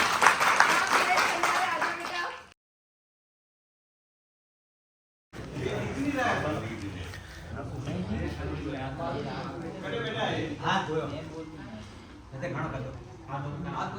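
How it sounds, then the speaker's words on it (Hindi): A group of young children at a school in Kotra, Udaipur, India clap together in a scattered burst, with voices chattering around them; the clapping pauses briefly, then resumes. "तालियां बजाओ एक बार, तालियां।"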